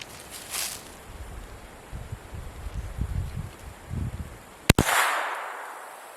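A suppressed Kel-Tec Sub CQB 9mm carbine firing supersonic ammunition gives one sharp, loud crack near the end, with a brief ringing decay, following outdoor wind and rustling.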